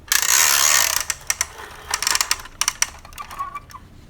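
A vintage Kenner Ghostbusters Ecto-1 plastic toy's claw mechanism gives a close, rapid ratcheting whir, then a run of sharp, irregular plastic clicks that fade toward the end.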